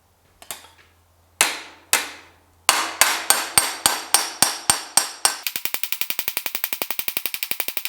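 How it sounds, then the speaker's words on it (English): Sharp metallic hammer strikes ring out on a sheet metal transmission tunnel panel for a GTO, starting with a few spaced blows, then a steady series, then a rapid run of lighter taps. "Let me get back over there and keep on hammering."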